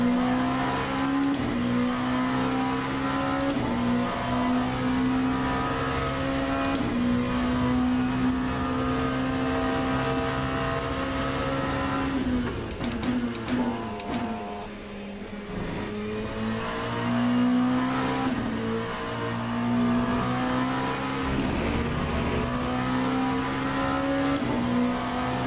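Race car engine in a racing sim video game, a steady droning whine that rises and falls with revs and gear shifts, continuous and close, dipping briefly midway.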